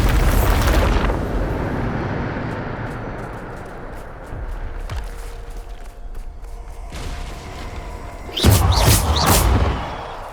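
Explosions from the Bombarda blasting spell in Hogwarts Legacy: a heavy, rumbling burst that rolls away into a long decaying roar, then a second loud crashing detonation near the end with crackling debris.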